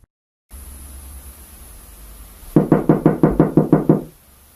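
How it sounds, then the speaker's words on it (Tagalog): Ten quick, loud knocks strike a door in a steady, even rhythm, each one sharp and close, following a stretch of faint hiss. "Kala ko may kumakatok sa pinto namin."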